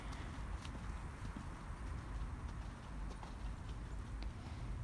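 A horse's hooves in a canter during a schooling ride, a steady rhythmic clip-clop of footfalls heard close and fairly faint against a constant low rumble, with no talk.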